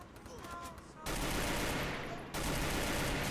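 Gunfire in a mobile shooter game rattles out as a dense burst of automatic shots, then a second loud burst after a brief drop, close and harsh.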